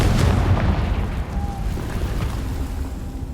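A Confringo spell blast in the Hogwarts Legacy video game, a loud booming explosion at the start that rumbles and fades into a lingering low roar.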